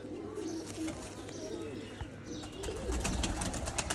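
A breeder pigeon coos softly amid a busy loft, low murmuring calls under scattered chirps and rustling, with a voice faintly speaking in the background.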